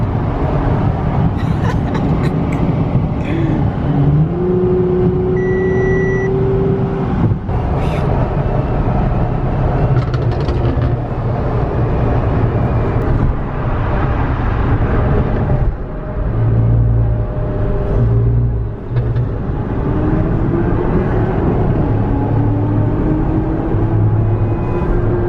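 A tuned Toyota Supra chases a Stage 2 Audi S3 and an RS4 on a road, heard from inside a car as loud rumbling engine and road noise, with rising and falling whines as the cars accelerate and shift.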